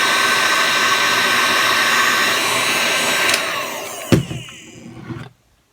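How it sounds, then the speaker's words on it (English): A heat gun blows with a loud, steady roar while warming a chrome-lacquered plastic part, close up. Near the end it cuts off, followed by a couple of light knocks and a short fading whir. "I've got a heat gun and just warm it up."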